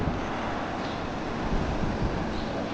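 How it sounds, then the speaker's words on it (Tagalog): Strong wind gusting past an open window indoors, a continuous loud roaring rush with buffeting low rumble across the whole stretch and no one speaking. "malakas ang hangin ngayon dito."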